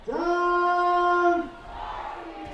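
A single loud fan lets out one long sustained shout at a high school football playoff game between Holmen and DeForest, the held call lasting over a second before trailing off into softer crowd noise.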